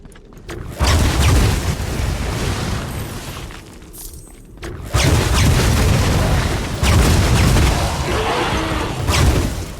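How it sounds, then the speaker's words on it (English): Exploding enemies in the Wolcen action RPG go off as heavy booms over dense combat noise, in loud bursts separated by brief dips. "watch out for these exploding enemies"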